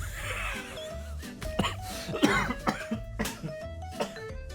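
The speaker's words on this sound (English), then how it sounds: "I made myself cough laughing." A man coughs repeatedly in short, close bursts after laughing, mixed with breathy laughter and throat noises, over a low in-game engine hum.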